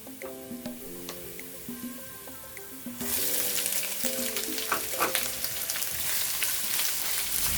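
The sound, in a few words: onion frying in a pan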